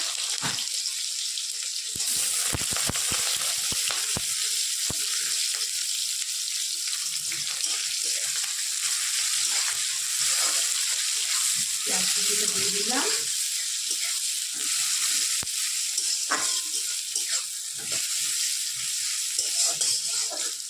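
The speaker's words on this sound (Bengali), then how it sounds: "তেল কিন্তু আমার গরম হয়ে গেছে এই যে পেঁয়াজ কুচিটা এর মধ্যে একটু দিয়ে" Steady, loud hissing of chopped onion frying in hot oil fills the whole stretch, with occasional clinks and scrapes of stirring.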